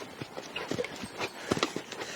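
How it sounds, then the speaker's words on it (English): A horse trotting during groundwork training, hooves striking in a quick, steady rhythm at close range with some background noise. "Now I have to be there when this horse just trots."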